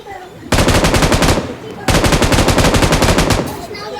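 Rapid automatic gunfire from a shooting video game rattles loud and close in two long sustained bursts, split by a brief pause, with only faint background noise between them.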